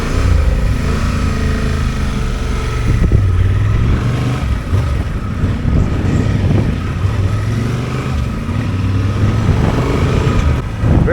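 Honda 750 Transalp or Yamaha Tenere 700 motorcycle pulling away on a test ride, a steady loud engine drone with shifting pitch as it accelerates, wind rush throughout.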